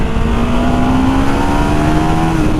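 A 13-year-old Ducati motorcycle accelerates hard, its engine note rising steadily in pitch as it pulls, loud and close throughout with no talking.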